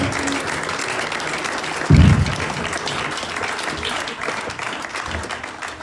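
A church congregation applauding, steady dense clapping from many hands throughout, with a brief thump and some voices mixed in.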